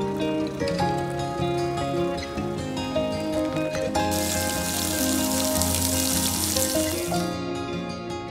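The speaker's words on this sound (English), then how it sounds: "eggs and bacon going right here" Eggs and bacon sizzle on a camping stove during winter car camping near Moab, Utah, a steady fry that swells into a brighter, louder hiss midway before fading, with a constant tonal background throughout.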